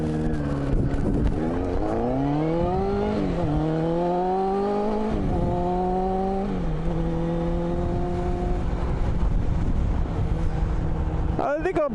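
A Suzuki Katana 600 motorcycle rides along, its engine pitch climbing through several revving gear shifts and then holding a steady drone, loud and close under continuous wind rush.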